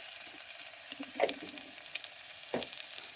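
Ginger garlic paste frying with onions for bagara rice, a quiet steady sizzle with a couple of louder spoon scrapes and pops standing out briefly, no voices.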